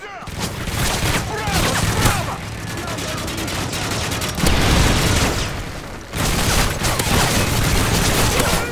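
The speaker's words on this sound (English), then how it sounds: "Friendly Predator missile inbound." Dense, loud battle noise in a video game: a Predator missile strike lands with heavy booming explosions amid continuous gunfire, rumbling in waves with a short dip partway through, and a voice briefly audible.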